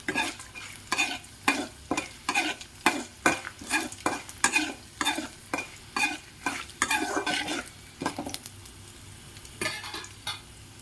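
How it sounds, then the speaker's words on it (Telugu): Urad dal (split black gram) fries in hot oil for a tempering with a steady sizzle while a spoon scrapes and stirs rhythmically against the pan, close up, no talking. "1/2 స్పూన్ మినప్పప్పు వేసుకొని బాగా ఫ్రై చేసుకుంటాం."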